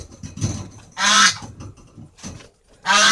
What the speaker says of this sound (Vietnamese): các bạn nghe tiếng con ngỗng chưa?